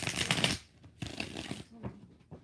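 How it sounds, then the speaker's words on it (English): Tarot cards being shuffled in quick riffling bursts, a dense crisp rush for about half a second, another burst after a pause, then softer scattered card taps and slides close to the mic. "Last shuffle."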